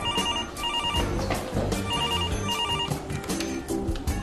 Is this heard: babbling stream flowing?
no